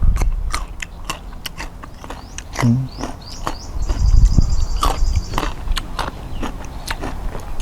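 Biting and chewing sour marian plum (maprang) fruit: a steady series of close, crisp clicks and wet crunches over several seconds, with a faint chirping noise in the background.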